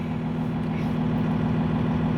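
A Cummins 24-valve diesel engine that has sat for two and a half weeks in the cold runs with a steady, close, low rumble and a constant clattering idle throughout.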